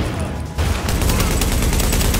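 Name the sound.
suppressed gunfire in a video game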